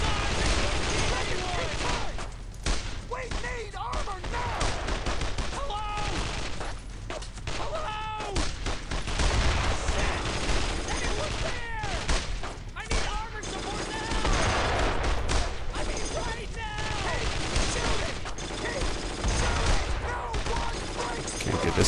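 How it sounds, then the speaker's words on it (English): Gunfire from Brothers in Arms: Road to Hill 30 crackles in rapid, repeated bursts over loud game combat, with a voice talking over the shooting throughout. "The recoil from this gun's mad."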